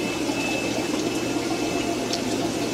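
Water draining from an overflow into fish breeding tanks, a constant trickling, gurgling rush with a steady pump-like hum, close and continuous with no talking.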